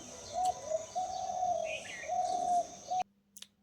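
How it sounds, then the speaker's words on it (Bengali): Birdsong on a foggy morning outdoors, heard from a balcony: a bird repeats a steady, fairly loud whistled call in long phrases, with faint chirps behind it, then cuts off into near silence. "চারপাশে মানে পাখির ডাকি একটা পাখি কিভাবে যেন ডাকছে"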